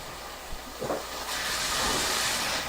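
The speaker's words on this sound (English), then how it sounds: "you can already see how quickly the beef is cooking up" Beef cooking in a hot pan for ginger beef and mushroom noodles gives a steady, close hissing sizzle. It swells louder partway through and holds a dense, even crackle.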